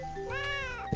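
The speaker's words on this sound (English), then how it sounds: "You should manage your one noisy cat." A single cat meows loudly with a rising then falling pitch, heard nearby, ending in two short soft knocks during a board game.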